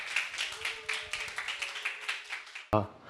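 Church congregation applauding to welcome a preacher at a Sunday service: steady, fairly soft clapping fills most of the moment, with a sustained musical tone beneath it and a short sharp knock near the end.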